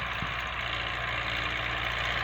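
A YuMZ-6 tractor engine runs steadily at close range during ploughing, with a loud, even exhaust rumble and a regular low throb. No speech is heard.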